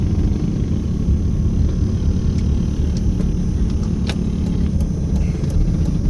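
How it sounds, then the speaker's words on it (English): Small mini pocket bike and go-kart engines buzz and rumble together on the Las Vegas Strip, a loud continuous mix of motor drone and traffic noise with a few sharp clicks. "We've got some more mini bikes and a go-kart."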